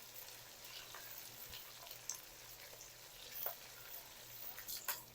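Onion, garlic and ginger fry in a pan for Kashmiri chicken, a faint, steady sizzle with scattered small pops and crackles, no voices.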